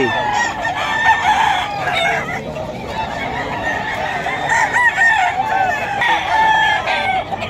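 Chickens at a busy early-morning poultry market in Bocaue, Bulacan, where young roosters are sold, give overlapping nearby clucks and crowing calls, constant and fairly loud, with crowd noise underneath.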